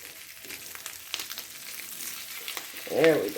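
Crab cakes frying in a pan, a soft steady sizzle with faint crackles, a brief louder scrape near the end, no talking.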